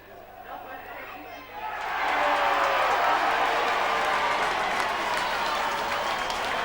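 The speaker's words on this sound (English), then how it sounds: "The crowd warmly appreciating the performance this afternoon by Cougars number 8, Ian Keighley" A rugby league crowd at a Batley versus Keighley cup match applauds a Cougars player, the clapping swelling from a quieter murmur into sustained, dense applause that fills the ground.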